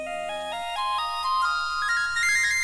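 A phone ringtone plays alone, a bright melodic electronic tune stepping upward in pitch, steady and fairly loud with no talking over it.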